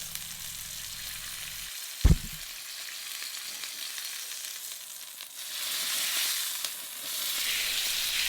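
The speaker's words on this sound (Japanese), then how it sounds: "サーロインステーキの方の脂の部分をちょっとだけ焼いていきます。" Fat on the sirloin side of a T-bone steak searing on a grill plate, heard as a steady broadband sizzle up close, broken by one sharp knock early on and swelling louder toward the end.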